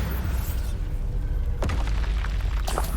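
A Bombarda spell detonates in Hogwarts Legacy, a deep booming burst that rolls out over a low rumbling bed, followed by a sharper crackling secondary blast near the end, all without talk.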